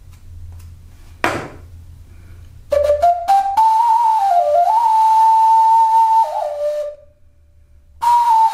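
A homemade ocarina with four holes sounds after a brief knock, playing a sustained whistling tone that bends between a few close notes, fades out, then starts again near the end.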